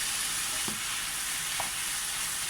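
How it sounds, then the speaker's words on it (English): Mince browns in a hot pan, sizzling steadily with a constant frying hiss and a couple of soft scraping stirs. "I'm just going to keep stirring this now till all the mince is brown"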